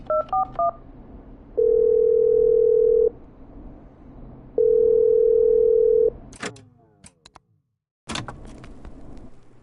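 A burst of quick telephone keypad dialing beeps, then two long steady dial tones separated by a pause, followed by a few sharp clicks and handset clatter, with no talking.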